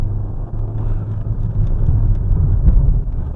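A Renault Megane 4 is driven hard into a turn, heard from inside the cabin as a loud, steady low engine and road rumble that swells slightly through the corner.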